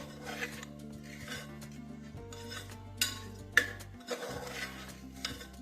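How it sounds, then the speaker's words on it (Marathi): Moong dal khichdi with salt and grated ginger stirred in a pot, giving intermittent scraping clinks of a spoon against the metal over a low steady hum, no voices. "हलवून घ्यायचंय"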